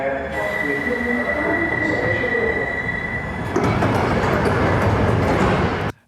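Doors of a long train closing all at once at an empty platform, a hissing, squealing rail noise that turns into a broad clattering rush before cutting off sharply.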